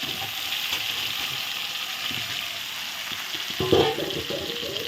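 Potato pieces frying with tomato paste and spices in a pan, a steady soft sizzle throughout with a brief louder burst of crackling near the end.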